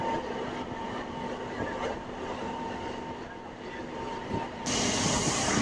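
A MEMU commuter train pulls into Bhuvanagiri station, its steady rolling rumble carrying a droning tonal hum, with a few soft clanks along the way and a brighter hiss rising near the end.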